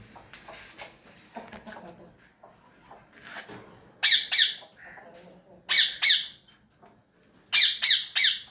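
Loud, harsh bird squawks come in three clustered bursts of two or three calls each, separated by quieter stretches of faint rustling and low background noise.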